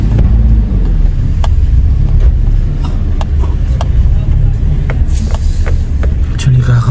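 Street traffic at night near Al Batha market in Riyadh, with cars rumbling and passing close by in a steady loud stream, scattered clicks and clatter on top, and background voices in the area.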